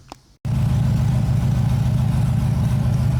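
A Chevrolet S-10 engine with an oxygen sensor fitted in the exhaust tube cranks briefly, then catches and settles into a loud, steady low-pitched idle that runs continuously.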